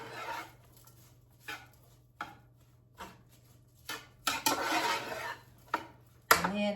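Diced half onion being stirred into a cheeseburger meat mixture in a bowl, a series of soft scraping clacks of a utensil against the dish, close and fairly quiet, ending with a sharper knock.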